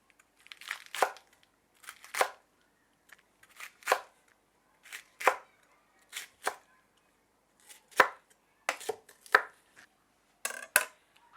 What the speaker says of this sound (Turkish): Kapya biberleri de yine aynı şekilde çekirdeklerini alıyoruz ve çok büyük olmayacak parçalar şeklinde doğruyoruz.